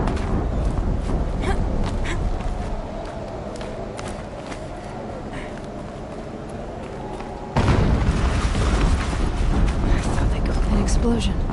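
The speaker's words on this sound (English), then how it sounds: "An explosion." A deep booming explosion in the video game Horizon Zero Dawn, with a low rumbling roar that swells sharply partway through and stays loud, under steady game noise and speech.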